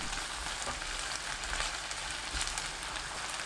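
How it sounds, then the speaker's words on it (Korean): Minced garlic, ginger syrup, raw cane sugar and soy sauce stir-fry in a hot pan, giving a steady, dense sizzle that runs unbroken at close range with no talk. "다진 마늘 1큰술, 생강청 반큰술, 사탕수수 원당 반큰술, 진간장 2큰술 넣고 20초 볶습니다."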